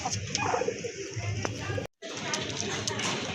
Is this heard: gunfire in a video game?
no